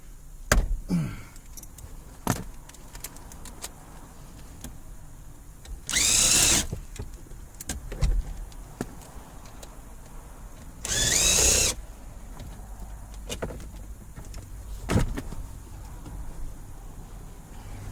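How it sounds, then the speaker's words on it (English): A ratchet works tight bolts loose on a Toyota RAV4, giving two short, loud, harsh bursts about five seconds apart. Scattered light clicks and knocks fill the quieter stretches between them. "we're going to crack them loose with a ratchet, and then we're going to go ahead and extract the bolts"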